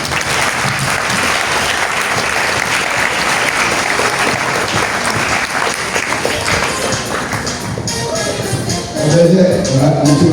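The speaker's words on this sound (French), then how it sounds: "Elle va encore venir sous vos acclamations." A church congregation at a Charismatic Renewal gathering bursts into sustained applause and cheering, loud and dense throughout, with brief voices surfacing near the end.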